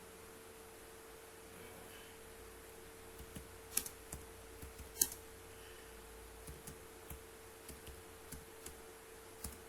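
Keys tap on a computer keyboard as remarks are typed, with soft irregular clicks and a few sharper strokes over a faint steady hum, close by and with no talk.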